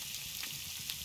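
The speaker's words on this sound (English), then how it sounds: "hear that sizzle? That's all the goodness in it." Food sizzles while it cooks in the survival video game Scum, a steady, soft frying hiss with faint crackles and no voices.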